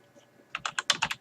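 Short burst of typing on a computer keyboard, about half a dozen crisp, close keystrokes in quick succession after a near-silent start.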